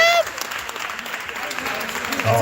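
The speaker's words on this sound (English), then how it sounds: "Give a round of applause." An audience applauds at a fundraiser auction, a dense steady clapping heard close for a couple of seconds, with a voice over it near the start and end.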